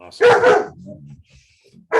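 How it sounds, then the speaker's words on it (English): Dogs bark in a loud close burst at the start, followed by quieter yips and whimpers, with another sharp bark at the end and a brief spoken word in between. "Sorry about my dogs."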